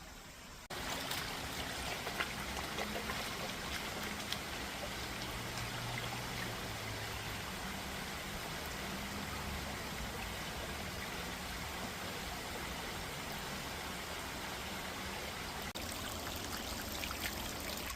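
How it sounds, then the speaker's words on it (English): Rain falling outdoors at a camp on clay ground in wind and cold, a steady hiss of drops with no talking, continuous and fairly soft throughout. "Started really raining, wind, cold."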